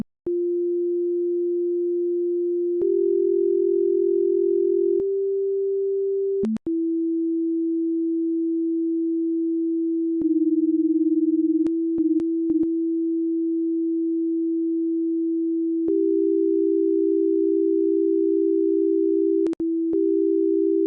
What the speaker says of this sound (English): I could now get a recording of what it would sound like to chop down a tree